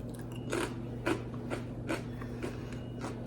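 Crispy sourdough discard crackers crunch under repeated bites, about seven sharp, brittle snaps at a steady rhythm, close and clear against a low background hum.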